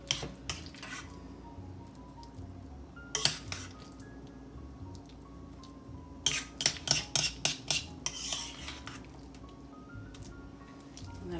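Thick cream cheese mixture spooned out of a bowl onto a casserole in a home kitchen, heard as soft wet squishes and spoon clinks against the bowl, with a dense cluster of scraping taps near the end.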